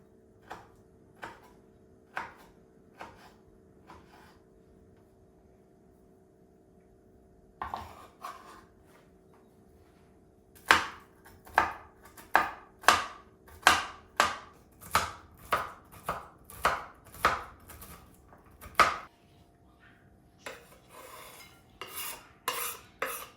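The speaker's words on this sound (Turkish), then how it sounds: "Bir avuç da ceviz kıracağım." A knife chopping walnuts on a board while making a dessert: a few light scattered taps at first, then a quick series of crisp, close, rhythmic chops, and a brief flurry of cuts at the end.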